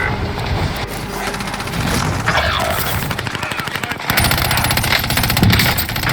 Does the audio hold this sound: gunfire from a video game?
yes